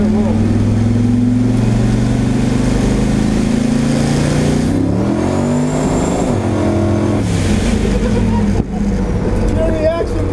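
An LS-swapped Ford Falcon pulls hard through a first-gear roll, its V8 loud and rising steadily in pitch for several seconds from inside the car, then easing off.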